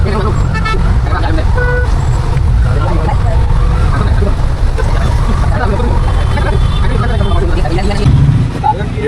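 Steady road traffic rumbles throughout, heard from an auto-rickshaw on the way to Nalasopara, with engines droning close by and a horn toot now and then, continuous and fairly loud.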